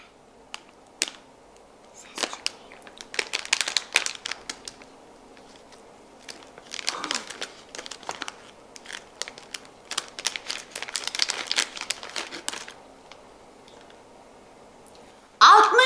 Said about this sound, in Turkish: Poşet ne kadar iyi yerden açıldı bakar mısınız?